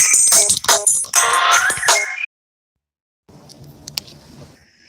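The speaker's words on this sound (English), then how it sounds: "I gotta answer this call." A phone rings with an incoming call, a loud melodic ringtone with bright repeating tones for about two seconds that cuts off abruptly, followed by quieter handling noise.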